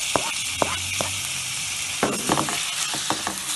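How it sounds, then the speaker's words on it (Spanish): Diced tomatoes fry in a pan with softened sweet peppers for a Venezuelan pabellón sofrito, a steady close hiss punctuated by scraping stirs and soft clacks of a utensil. "dejamos que el tomate se sofría bien para que hagamos una especie de salsa"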